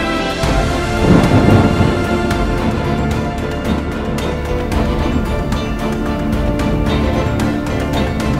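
A thunderstorm in the Dolomites pours heavy, steady rain close by, and a deep thunder rumble swells early on beneath the dense, loud hiss of the downpour.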